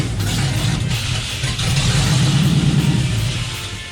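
Pickup tow truck with a failing transmission, its engine running and revving in a steady, loud low rumble that rises slightly midway, with no talk.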